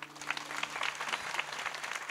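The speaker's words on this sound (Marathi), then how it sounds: "टाळ्या वाजवा ना जोरदार." Audience clapping at a Marathi kirtan, a dense burst of applause from a crowd, moderately close and steady, with a faint sustained tone underneath.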